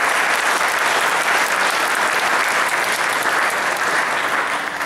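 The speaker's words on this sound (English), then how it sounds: "So let's give that benefactor a round of applause." A large audience at an acoustic music camp gives a sustained, loud round of applause, dense steady clapping filling the whole stretch with no voices over it.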